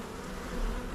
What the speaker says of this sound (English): this is a decent sized swarm for sure